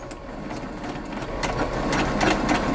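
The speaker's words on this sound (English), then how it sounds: "I'm going to sew right in between those two lines." Sewing machine stitching through an embroidered Christmas flower panel: a steady close mechanical whir of the needle running continuously for a few seconds, no talk.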